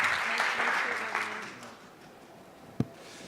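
Conference audience applause, a moderate burst of clapping that fades over a few seconds and ends with a single sharp knock, while a voice briefly speaks under it.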